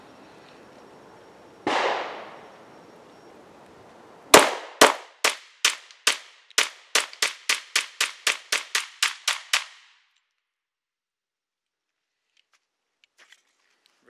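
A Polymer 80 pistol fires brass ammunition at a shooting range: one dull thump, then a rapid string of about thirteen loud, sharp shots at a fast, even cadence, followed by silence.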